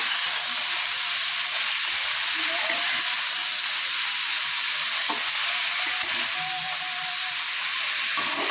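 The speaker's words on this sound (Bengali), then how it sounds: "চলো শাকটা দিয়ে নাড়াচাড়া করে" Noté (amaranth) greens with their stems frying in a pan, giving a loud, continuous close hiss and sizzle with occasional stirring clinks and scrapes.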